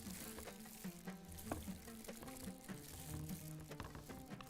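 Tomato paste frying in a pot for a Bahraini thereed with mutton or lamb, heard as soft, quiet bubbling and sizzling with repeated scraping and knocking stir strokes close by; no talking.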